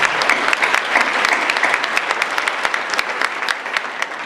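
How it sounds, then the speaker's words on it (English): A dinner audience at a school district event bursts into sustained applause, dense clapping from many hands filling the room steadily for several seconds. "And give yourself a round of applause on that."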